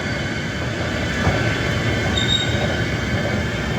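A train rumbles steadily through a railway station, its continuous close roar of wheels on rails carrying a faint high squeal partway through, with no voices.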